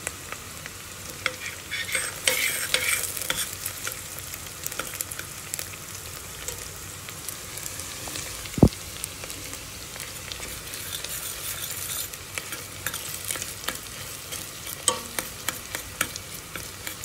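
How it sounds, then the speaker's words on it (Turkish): Tomato paste is stirred into onions frying in a pan, giving a continuous close sizzle with frequent scraping and light utensil taps, and no talk. "Evet, bakın bu şekilde soğanımız oldu. Şimdi salçamızı ekleyeceğim."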